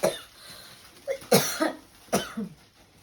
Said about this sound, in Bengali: এত কাশি হচ্ছে আমার,